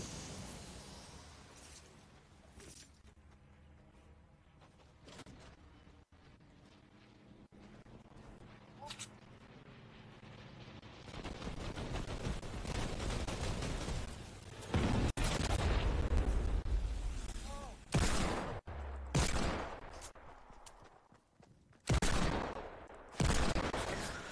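Gunfire in the Fortnite video game, with a Desert Eagle pistol among the weapons, comes as scattered shots and a dense volley of sharp bursts in the second half. A player talks over the action.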